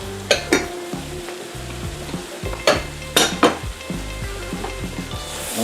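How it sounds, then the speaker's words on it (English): A whole eggplant fries with garlic in a pot, giving a steady close sizzle. Several sharp clunks of a utensil stirring against the pot cut through it. "the first thing that's going to go in is your eggplant"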